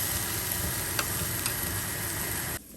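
Green chillies and curry leaves hit hot oil in a pan while cooking a Kerala fish curry with raw mango, giving a loud, steady sizzle that crackles continuously and cuts off abruptly near the end.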